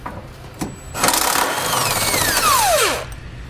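A power tool whirs and winds down while backing bolts out of the frame rail of a 2019 Dodge Grand Caravan with a 15 mm socket, a steady mechanical whine that sweeps downward as the bolt frees.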